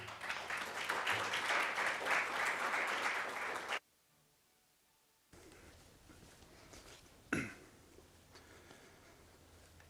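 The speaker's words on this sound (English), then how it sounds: "Please join me in welcoming these speakers with a round of applause." Conference audience in Grand Rapids applauds newly introduced speakers, a full steady round of clapping that cuts off abruptly, followed by quiet room tone and a single sharp knock.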